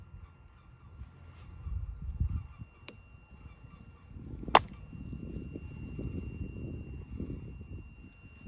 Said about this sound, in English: Probably hear some sandhill cranes going berserk in the background.